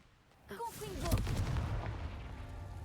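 Confringo fire spell cast in the Hogwarts Legacy video game, a sudden blast-like burst of magical impact that swells and rumbles for a couple of seconds, with a brief tonal whoosh at its start.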